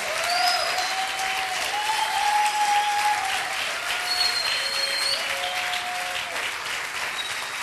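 Congregation clapping during a Passover teaching in church, a steady dense applause under sustained keyboard tones and occasional cheering voices.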